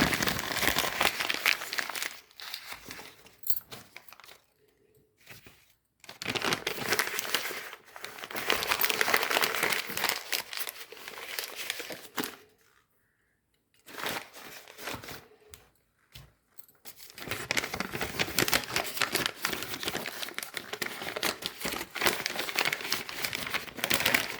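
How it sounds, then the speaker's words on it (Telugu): Paper crinkles and crumples in close, busy bursts as custard apples are rolled up one by one for storage, with a few brief pauses between wrappings. "వీటిని ఇలా పేపర్లో రోల్ చేసి పెట్టేసుకోవాలండి"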